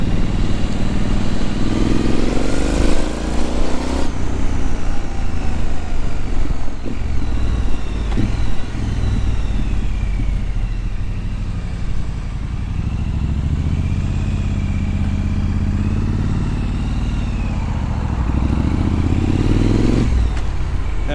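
A Triumph Scrambler motorcycle is ridden hard with wheelies, its engine revving up and down through gears at close range, with loud steady exhaust drone, rising acceleration sweeps and wind noise throughout.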